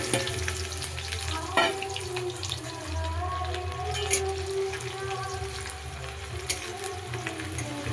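Chopped onions dropped into hot oil in a wok, giving a continuous frying sizzle and crackle with a brief clatter as they go in, a low steady hum running beneath.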